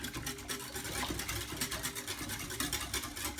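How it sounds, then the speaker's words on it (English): A whisk beating sweetened condensed milk in a bowl makes a steady, fast scraping swish, close and continuous, with no one talking. "we're just going to give this one a nice lovely little whisk"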